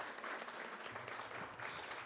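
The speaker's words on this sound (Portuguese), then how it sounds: "eu queria dar palmas para ela" Faint, steady applause from a small class in a sign-language workshop, clapping for a student, heard evenly throughout at low level with no talking.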